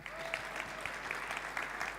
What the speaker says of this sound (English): So let's give her a loud round of applause.